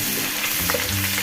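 Chopped garlic and ginger frying in oil left from frying chicken for gravy chili chicken, a dense close sizzle with stirring scrapes, continuous and fairly loud, no talking.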